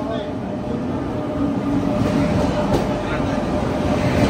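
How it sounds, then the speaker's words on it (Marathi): A train rumbles steadily nearby, a low continuous mechanical drone with faint rail noise, growing slightly louder as it draws in. "आफ्टर समवेट आमची ट्रेन आलेली आहे"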